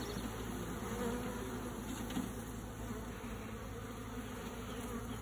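A newly hived honey bee swarm colony hums inside its box as thousands of bees buzz in a dense, continuous drone, close and steady, with no voices over it.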